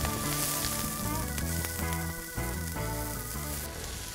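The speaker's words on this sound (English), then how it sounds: "And that tends to caramelize the rice. We got the sugar, it's just starting to caramelize" Rice hits a pan of caramelizing sugar and fries with a loud, steady sizzle that holds nearly unchanged throughout.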